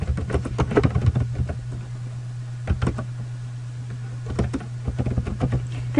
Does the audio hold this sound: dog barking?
no